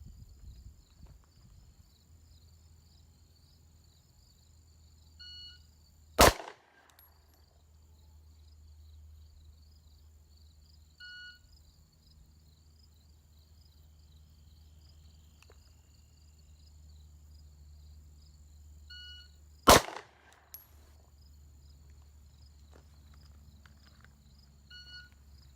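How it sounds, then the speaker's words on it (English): Two sharp, isolated gunshots crack out during a timed shooting drill on a range, about thirteen seconds apart, each a brief bright snap over an otherwise quiet, faint background. "So we're going to throw some rounds down range."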